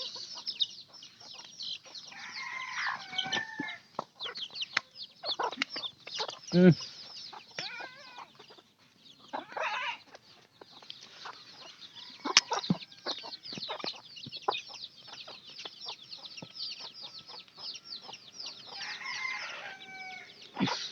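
A tethered mother hen clucks repeatedly near her chicks, with other fowl calling and a rooster crowing now and then, close and moderately loud throughout with no talk.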